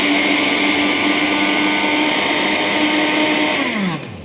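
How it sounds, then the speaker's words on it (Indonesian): A kitchen blender whirs loudly and steadily as it blends a black detox drink, the motor holding an even pitch before winding down near the end. "Ini langsung kita blender, kita lihat warnanya tadi putih, langsung kalau saya blender nanti berubah warnanya."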